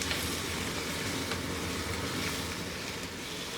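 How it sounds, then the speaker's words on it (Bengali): Spinach stir-fried in a hot pan for egg noodles gives off a steady, even sizzle that holds at a moderate level throughout, with no voices. "এর মধ্যে আমি এখন পালং শাকগুলা দিয়ে দিব, দিয়ে এই মিনিট খানেক কি মিনিট দেড়েক নাড়াচাড়া করে ভেজে নেব"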